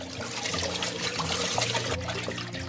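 Water poured steadily over fish being washed, a continuous close splashing and trickling stream that runs unbroken for a few seconds.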